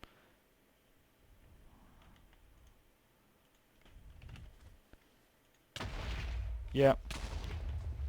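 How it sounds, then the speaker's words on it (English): A Minecraft explosion in the FTB modpack bursts in suddenly after quiet game ambience and some faint clicks, then rumbles on loudly with a sharper crackle inside it. A voice briefly speaks. "I should be able to just eat the explosion"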